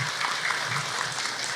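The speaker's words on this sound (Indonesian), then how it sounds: "tepuk tangan untuk Ahilman." Steady applause from a seated audience at an Islamic religious lecture, a continuous wash of clapping heard alone and fairly loud throughout.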